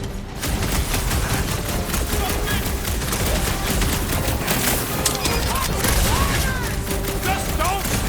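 Heavy, continuous gunfire in Guardians of the Galaxy, a dense unbroken stream of rapid shots and blasts at close range, with voices speaking over the barrage.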